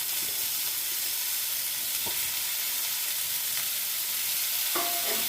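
Chopped flat beans hit hot oil with dried fish and fry with a steady, dense sizzle, with occasional stirring scrapes and clicks in the pan.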